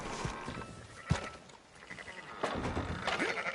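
Sheep bleating at a ranch in the Red Dead Redemption 2 video game, several short nasal bleats scattered across the moment at moderate distance, mixed with faint farmyard ambience and no talking.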